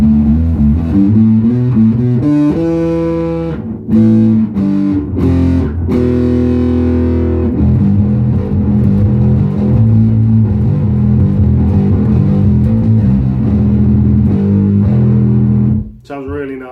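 Thick, buzzy distorted bass guitar notes through a Big Muff fuzz pedal played in a run, saturated and loud, ringing continuously before cutting off near the end.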